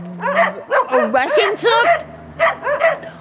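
Several dogs on a rubbish-strewn apartment balcony in Odesa bark and yip in quick bursts, loud and close, mixed with a short stretch of speech.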